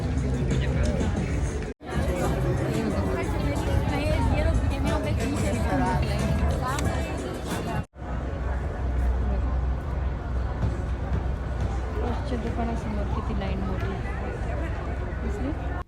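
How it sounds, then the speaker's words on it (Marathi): Dense crowd babble fills Allen outlet mall on Black Friday: many overlapping voices and shuffling footsteps form a continuous hubbub, interrupted by two very short breaks. "गर्दी गर्दी खूप गर्दी"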